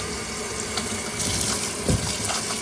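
Soapy water with laundry detergent gushing from the front O2 sensor port of an Audi/VW exhaust with a clogged catalytic converter, a steady close splashing rush with a brief louder spurt near the end, no talking.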